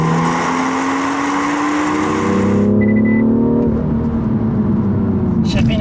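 A 2016 BMW M2 with a 3.0-litre six-cylinder turbo engine and seven-speed gearbox revs loudly and close, its pitch climbing, then eases off to a lower drone.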